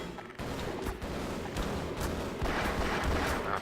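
Grenade explosion in the Half-Life video game, heard as a dense burst of loud booming and crackling gunfire-like blasts that fill the whole moment with no pause.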